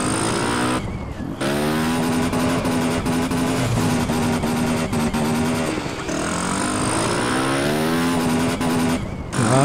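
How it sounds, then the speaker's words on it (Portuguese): Loud, close engine of a motorcycle in GTA San Andreas revving and accelerating with rising pitch sweeps, brief drops around gear changes, nearly continuous throughout. "Acelerar a motoca."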